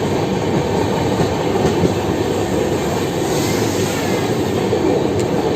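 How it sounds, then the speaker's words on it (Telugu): A goods train rolls past on a crossing track near Nagpur Junction, a loud, continuous broadband roar of wheels and wagons that holds steady throughout with no talk. "క్రాసింగ్ ఏదో ఫ్రైట్ క్రాసింగ్ అయితే వచ్చింది, గూడ్స్ ట్రైన్ అయితే వెళ్ళింది."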